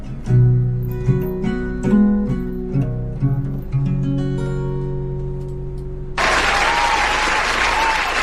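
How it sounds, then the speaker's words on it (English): A live audience bursts into loud, dense applause at the end of a performance, the clapping sweeping in abruptly after sustained piano-like musical notes and continuing steadily to the close. "that applause at the end"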